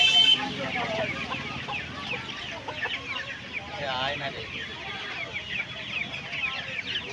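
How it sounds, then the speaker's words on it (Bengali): A poultry market where Silkie chickens are sold fills with steady clucking and shrill bird calls from many fowl, while people talk in the crowded background. "এই সিল্কি মোরগটা দেখুন"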